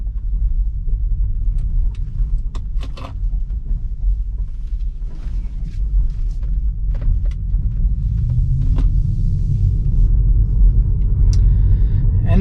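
Tesla Model 3 driving in chill mode on a rural road, heard from inside the cabin as a steady low road rumble and tire noise with occasional small clicks and rattles.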